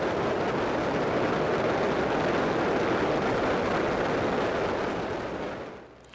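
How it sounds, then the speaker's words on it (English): A huge fireworks show at the Burj Khalifa in Dubai, United Arab Emirates, produces a dense, continuous roar of overlapping booms and crackles. It stays loud for about five seconds, then fades away. "It took center stage for this enormous, I'm not kidding, enormous fireworks show in the United Arab Emirates."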